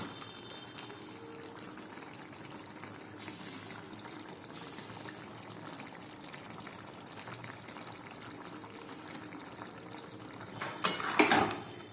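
A curry laced with kasuri methi and garam masala is stirred in a pot, giving a low, quiet bubbling and soft mixing, with a short burst of clatter near the end.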